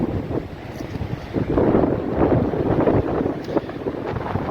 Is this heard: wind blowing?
yes